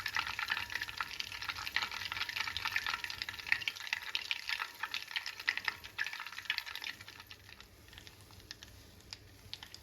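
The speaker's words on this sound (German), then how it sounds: "Jetzt bin ich still, damit wir der Butter beim Singen zuhören können." Butter sizzles and crackles steadily as it browns in a pan for a financier almond cake, a dense close hiss of fine pops that eases slightly toward the end, with no voices.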